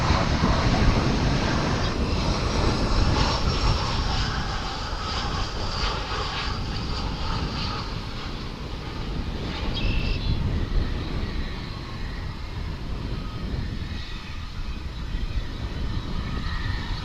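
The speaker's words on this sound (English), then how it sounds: "it is American Airlines Flight 809, an A319, coming in on runway 18 right on runway DFW" An American Airlines Airbus A319 lands on runway 18 right at Dallas/Fort Worth International Airport, a continuous broad roar of jet engines and rushing air, loud and sustained throughout with no voices.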